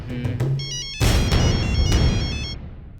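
A telephone rings loudly and close by with a bright, repeating electronic ringtone that starts after a brief clatter and fades out near the end.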